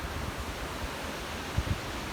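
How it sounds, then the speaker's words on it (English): Fast water rushes down below a hydroelectric dam as a dense, constant roar of broadband noise with wind buffeting the microphone, loud and steady throughout, with no talking. "you can now see the water speeding up and flowing down at a much higher rate"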